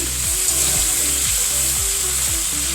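Ingredients for chicken biryani fry in a pan with chilli, tomato, sugar and salt, giving a continuous close sizzle, with rhythmic scraping strokes of a stirring spoon roughly every half second.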